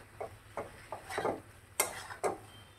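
A utensil stirs cauliflower florets in a pan while cooking cauliflower korma, making a close, fairly quiet series of irregular scrapes and light clinks over a soft background hiss.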